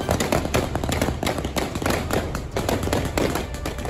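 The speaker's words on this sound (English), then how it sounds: "the Taliban members firing into the air" Taliban members fire rifles into the air at a street protest, a dense run of sharp, rapid cracks and pops heard up close and loud, with no break for the full four seconds.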